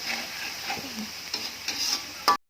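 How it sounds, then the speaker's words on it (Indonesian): Tomatoes and chilies with tamarind water stir-fried in a pan give a steady, soft sizzle broken by a few scraping stirs of a utensil, ending in one sharper scrape before it cuts off. "tumis terus sampai airnya agak kering sedikit"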